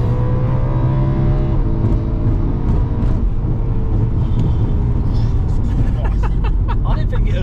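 Car engine revving hard with a loud, continuous roar that rises and falls in pitch, close by in an open space, with voices faintly mixed in.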